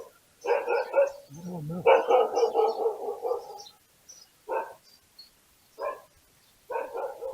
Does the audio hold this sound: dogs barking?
yes